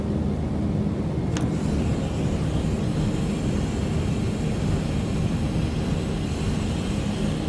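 A DC-3 in a flight simulator takes off with a constant broad drone of its engines, loud and unbroken, plus one brief click near the start.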